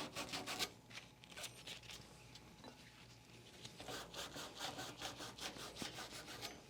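A Scotch-Brite pad scrubs a copper pipe clean before brazing, giving quiet, rapid back-and-forth rasping strokes that come in bursts, close and fairly faint.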